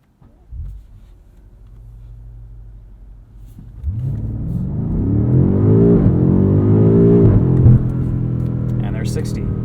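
A 2021 BMW M5 Competition launches from near idle after a brief blip, its engine rising in a loud, steady surge of revs through the gears, with a short dip at a shift and continuing hard pull.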